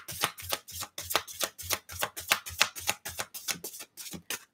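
Tarot cards are shuffled by hand in a quick, steady rhythm, each riffle a crisp papery burst repeating about three times a second, close and alone with no talking.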